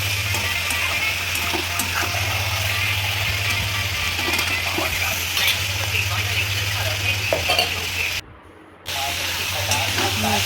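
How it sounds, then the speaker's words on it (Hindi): Dried red chillies and cashews stir-frying in a pan, a loud steady hissing sizzle with stirring noises throughout, cut by a short silent gap near the end. "अब सारी चीज़ें को अच्छे से मिक्स करते हुए खिला लेते हैं।"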